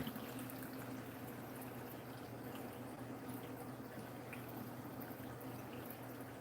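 Pineapple kombucha is poured into a container in a steady, quiet liquid stream with a soft fizzing wash and no talk.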